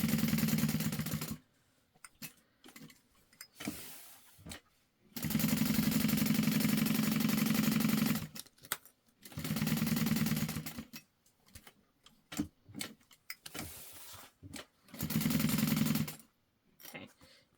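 A sewing machine stitching the lining of a wristlet runs in bursts of rapid mechanical whirring, several of them, each lasting one to three seconds. Short pauses with small handling clicks come between the bursts, all heard close up with no talk.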